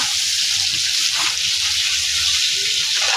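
Chopped onion frying in hot oil for a fish curry, a loud continuous hiss and crackle of sizzling that holds steady throughout without speech.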